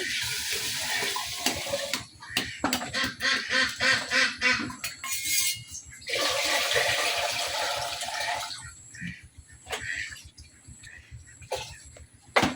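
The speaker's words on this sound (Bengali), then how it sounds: "এখন দিয়ে দিচ্ছি পরিমাণ মতো পানি।" Water poured into a pot of rice and lentils in a village kitchen, heard as several bursts of close splashing and pouring, broken by short knocks and quieter pauses.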